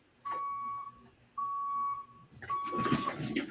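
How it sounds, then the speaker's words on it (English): Three sustained electronic beeps sound in a slow repeating pattern, like a vehicle reversing alarm, with some muffled voices and clatter under the last one. "Who's got a truck that's backing up? Not me. There was some beeping going on."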